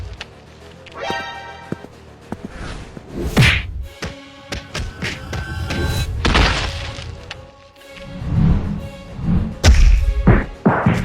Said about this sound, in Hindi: लेकिन आलिया एक जोरदार किक मारती है।